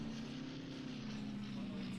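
Steady droning hum of an aircraft engine in the submarine video game Silent Hunter 3, a low, even tone holding for two seconds, faint and distant without any change.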